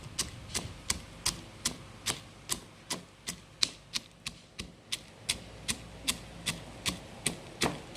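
Roasted peanuts pounded coarsely in a mortar, a steady series of about twenty sharp, evenly spaced thuds, close and fairly loud with no talk.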